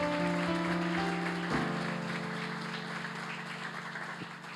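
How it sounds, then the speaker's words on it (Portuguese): A church congregation applauds, a broad wash of clapping running steadily under sustained musical tones and fading slightly toward the end. "Vamos dar um aplauso a Jesus pela vida do Marcos."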